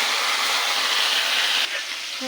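Amudi fish fry in hot oil in a wok with a steady, dense sizzle that holds at an even level throughout and eases slightly toward the end.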